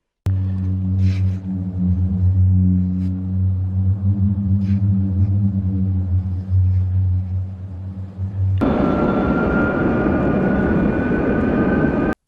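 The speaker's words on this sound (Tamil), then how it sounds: "மணல் துகள் உரசும்போது இப்படி சப்தம் கேட்கிறது" Singing sand in the Gobi Desert as grains rub together, a deep, steady booming drone with a layered tonal hum, loud and sustained for about eight seconds before an abrupt shift to a rougher, broader roar.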